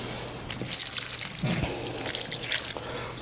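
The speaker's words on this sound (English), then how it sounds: "I'm adding about a cup of broth" Broth is poured into a sourdough Italian sausage stuffing, a soft, close liquid splash and trickle lasting a few seconds with a faint kitchen hum beneath.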